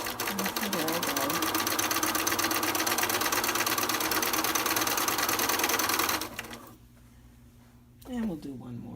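A sewing machine runs continuously as quilt block pieces are sewn together, a loud steady mechanical whir for about six seconds before it stops, followed by a brief rustle and short restart.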